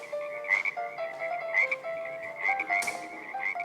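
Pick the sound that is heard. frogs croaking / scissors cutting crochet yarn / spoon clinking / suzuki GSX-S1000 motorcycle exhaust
frogs croaking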